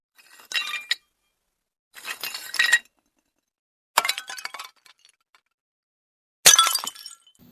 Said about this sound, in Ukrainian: Це звук розбитої тарілки.